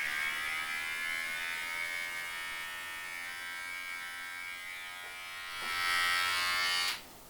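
A steady electric buzz from cordless Wahl hair clippers running continuously, close and fairly quiet, swelling slightly louder near the end before cutting off.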